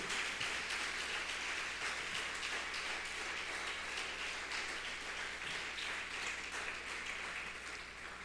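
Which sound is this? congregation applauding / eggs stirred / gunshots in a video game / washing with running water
congregation applauding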